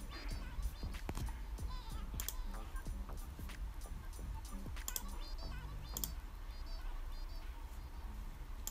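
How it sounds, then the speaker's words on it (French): Steady clicking and tapping on a computer keyboard, including the CTRL key, close and continuous over a low hum, with scattered sharper clicks. "Vous voyez, tac, tac, touche CTRL du clavier."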